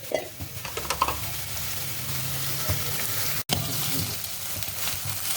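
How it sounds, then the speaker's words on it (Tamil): Urad dal and flax seeds tempering in hot oil, a steady close sizzle with light stirring scrapes throughout, broken by one brief dropout midway. "உளுத்தம்பருப்பு, ஃப்ளாக்ஸ் சீட்ஸ் தாளித்து எடுத்துட்டு"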